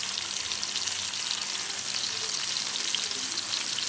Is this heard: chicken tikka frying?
yes